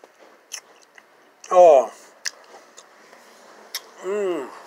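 Someone bites and chews Milk Duds caramel candy up close, with a couple of sticky, crunchy chewing bursts and small mouth clicks in between, with short vocal murmurs nearby.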